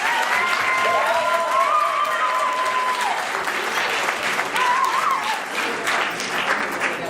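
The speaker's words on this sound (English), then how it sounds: "That deserves a round of applause." An audience at a graduation celebration bursts into a full round of applause, dense, loud and sustained for the whole stretch, with a few high whistles rising over the clapping.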